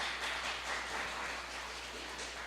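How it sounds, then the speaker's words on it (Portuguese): Congregation at a synagogue service applauding for a rabbi, a soft, steady patter of many hands heard from some distance, continuous throughout with no talk over it. "Dá aí uma salva de palmas para Orlando."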